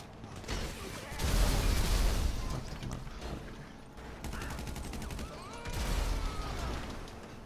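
Video game firefight with bursts of rapid gunfire and a booming explosion, heavy low thumps swelling and fading between volleys of crackling shots, with a few mechanical clanks.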